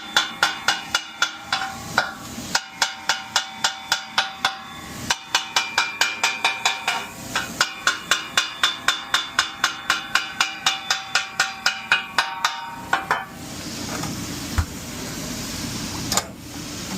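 Metal spatula chopping cheesesteak meat on a flat-top griddle, a loud rapid run of sharp clanking strikes in steady rhythm, briefly pausing twice, then giving way to softer scraping and sizzle near the end.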